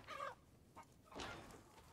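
A chicken in Resident Evil Village, a video game, clucks in a few short bursts, faint and somewhat distant over low game ambience.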